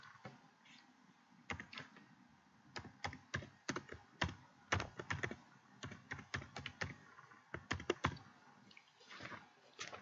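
Quiet, close-up typing on a computer keyboard, irregular bursts of light key clicks with short pauses between runs of keystrokes, no voices.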